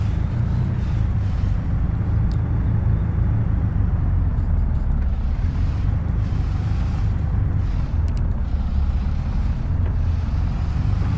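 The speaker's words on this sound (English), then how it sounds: "This 53-foot trailer is not the easiest thing to negotiate." A big truck hauling a 53-foot trailer in a farming simulator gives a steady, loud low engine drone throughout, with occasional faint clicks and rattles on top.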